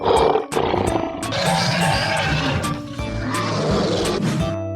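A lion roars in a 3D animal slide game, a loud, sustained growling roar filling the clip amid busy game effects and sharp clattering hits.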